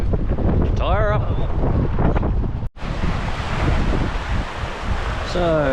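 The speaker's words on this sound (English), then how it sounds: "A little bit windy" Strong wind at Lake Wanaka, New Zealand, buffeting the microphone in a loud continuous rumble with gusts, cut by a brief dropout, while people talk over it.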